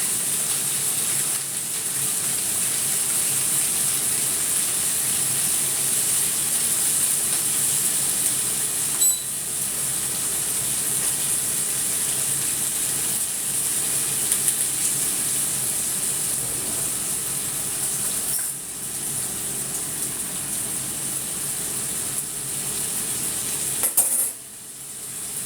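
Sugar is whisked with a small whisk until dissolved, a steady, continuous fine scraping and rattling of the wires against a bowl with a bright hiss, running unbroken with a few small clinks, no talking.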